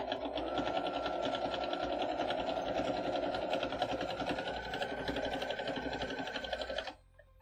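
A sewing machine runs steadily while sewing a quilt seam, a close, continuous whirring hum with fast rhythmic needle ticks that cuts off cleanly near the end, leaving brief quiet.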